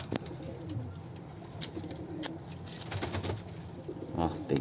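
Soft, low pigeon cooing in a quiet setting, with a couple of sharp clicks and faint background rustling.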